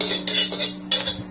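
Lard being stirred in a wok until it melts, with two quick metallic scrapes of a spatula against the pan over a constant low hum, close and fairly loud.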